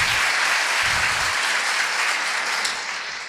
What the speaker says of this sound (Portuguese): Give John a big hand clap.